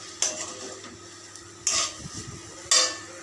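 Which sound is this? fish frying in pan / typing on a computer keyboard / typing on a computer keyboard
fish frying in pan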